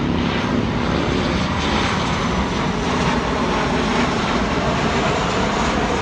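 Propeller aircraft drones overhead as a steady, loud, continuous engine roar with no clear rise or fall, and no voices.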